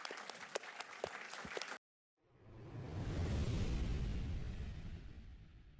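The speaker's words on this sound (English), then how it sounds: "So big round of applause for our panel" An audience applauds a panel at the close of a design summit: a few sharp claps sound first, then a brief silence, and then a broad wash of clapping swells in and holds steady.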